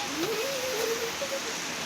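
Heavy monsoon rain pours down in Pune during a red alert as a dense, steady hiss. A thin whistling bird-like call rises and wavers briefly over it.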